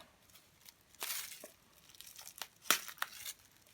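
Plastic packaging torn open with teeth during a planner advent unboxing: several short, close crinkling rips in quick bursts, each sharp and brief, separated by quiet gaps.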